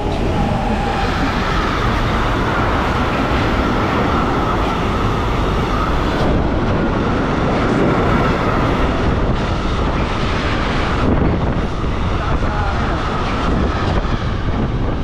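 A train roars loudly past at close range through a station, a continuous heavy rumble and rattling of wagons lasting the whole stretch.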